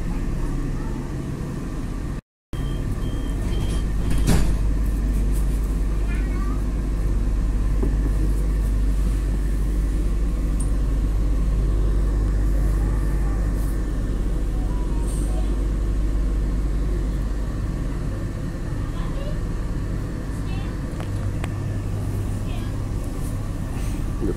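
An Auckland Eastern Line commuter train pulls away with a steady low rumble and a hum that rises and falls. Faint clicks and rattles sit on top, heard from onboard.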